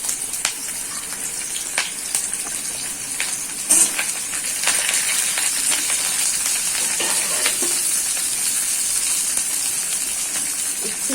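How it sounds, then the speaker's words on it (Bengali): Bitter gourd frying in hot oil, a steady hissing sizzle with occasional small pops and crackles, close and continuous at moderate loudness with no talk. "তেল আমার গরম হয়ে গেছে, উচ্ছেটা ভেজে নেব।"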